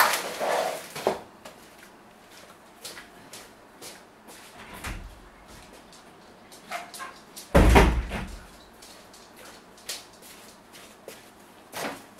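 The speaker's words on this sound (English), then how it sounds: "my dog wants to come in" A dog barks a few times near a door while wanting to be let inside, the sharp bursts spread across a quiet room with faint clatter and thumps around them.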